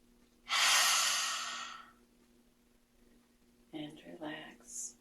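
A person exhaling slowly during gentle yoga breathing, one long audible breath out through the mouth, followed by a quiet spoken instruction.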